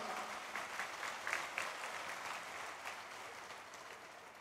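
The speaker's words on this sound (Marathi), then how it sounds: "एकदा जोरात टाळ्या वाजवून नितीनजी करता." Crowd at a political rally in Vidarbha, Maharashtra, clapping loudly for Nitin Gadkari, a steady, dense wash of applause filling the whole stretch with a few sharper swells, no talking over it.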